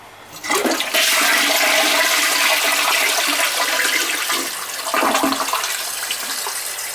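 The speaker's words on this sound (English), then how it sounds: "Let's see how it flushes now." A toilet flushing after its tank water level was adjusted, a loud close rushing swirl that surges in abruptly and holds strong, then eases and resurges as the bowl drains and refills, with no talking.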